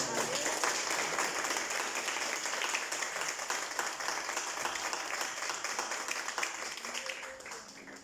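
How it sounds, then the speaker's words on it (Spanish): A church congregation applauds the Lord during a Sunday sermon, steady dense clapping filling the space for about eight seconds before easing slightly at the end. "¿Qué tal si le damos un aplauso al Señor?"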